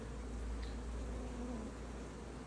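Honeybees hum and buzz steadily around an open hive, a dense, close drone holding the same level throughout, with no voices.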